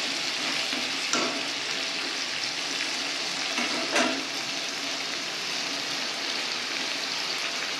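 Potato pieces fry in hot oil with salt and turmeric, giving off a steady, dense sizzle that runs unbroken throughout, with a couple of faint stirring scrapes near the pan.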